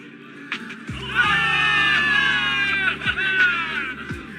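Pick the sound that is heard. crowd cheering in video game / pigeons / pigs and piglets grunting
crowd cheering in video game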